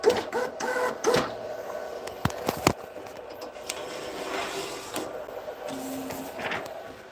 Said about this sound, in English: it's a pretty fast printer